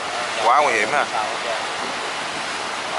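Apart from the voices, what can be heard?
water rushing through an open sluice gate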